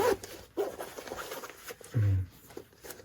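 Zipper on a heated softshell vest pulled in short rasping strokes, with fabric rustling and handling noises between them, close up, and a brief low voice-like sound partway through.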